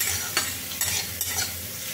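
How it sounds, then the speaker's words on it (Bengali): Bitter gourd slices frying with salt and turmeric in a pan, a steady close hiss of sizzling oil with three brief stirring scrapes at regular intervals. "হলুদ দিয়ে উচ্ছেগুলো হলুদ নুন দিয়ে সুন্দরভাবে ভেজে নিচ্ছি।"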